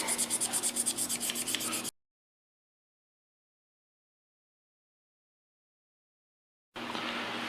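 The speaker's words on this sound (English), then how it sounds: "Again, using my 600 grit stone." A 600 grit stone polishes Beretta 92FS trigger parts with fast, even rubbing strokes for about two seconds, then a long gap of silence, then more steady scraping near the end, close up and moderately loud.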